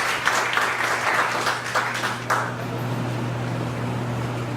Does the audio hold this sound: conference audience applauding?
yes